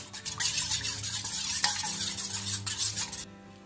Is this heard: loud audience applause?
no